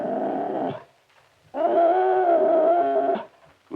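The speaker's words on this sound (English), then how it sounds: "There must be a dog under the table." A dog lets out two long, drawn-out howling cries with a short gap between them. The second wail is longer and steadier, and both are loud and close.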